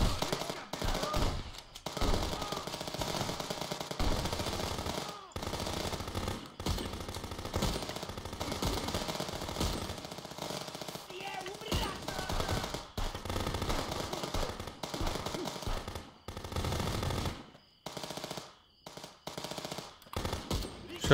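Rapid bursts of automatic gunfire and single shots in the police video game Contraband Police crackle loudly and almost continuously with brief pauses, with occasional speech mixed in.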